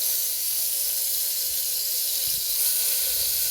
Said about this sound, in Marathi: तेल तापल्यानंतर थोडेसे जिरे घालायचे व ती पेस्ट घालून घ्यायची